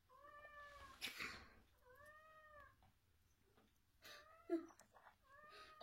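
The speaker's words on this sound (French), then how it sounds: "C'est mon chat qui est un peu rigolo." A cat meows repeatedly in drawn-out, wavering cries, several calls spaced a second or two apart, fairly close in a quiet room.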